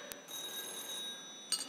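A telephone bell rings in a quiet indoor scene, a sustained electronic trill that holds for about a second before a second short burst starts.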